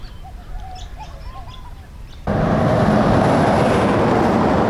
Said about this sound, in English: The bird calls this morning were